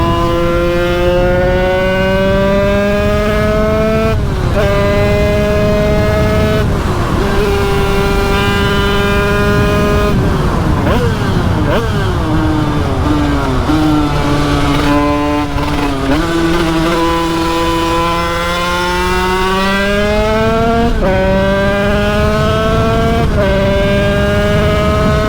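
A motorcycle engine revs up hard through the gears, each rising whine dropping at a shift and then climbing again. It is loud and close, with steady wind roar underneath for the whole stretch.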